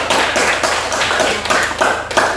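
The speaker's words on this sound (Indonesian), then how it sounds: "kita berikan tepuk tangan dulu." Students in a classroom clap for the presenting groups, a loud, close patter of many hands with uneven bursts and a few sharper taps, with no talk over it.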